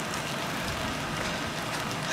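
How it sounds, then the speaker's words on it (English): Steady rain falls outdoors on a hilltop during a stormy, hurricane-driven weekend, a continuous broadband hiss with a dense patter that stays even and fairly close throughout, with no voices. "It's still raining."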